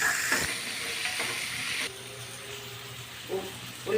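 Curry leaves fry in hot oil with onion and tomato for an egg and drumstick curry. A bright, close sizzle comes first, then softens to a quieter crackle with a few light stirring knocks.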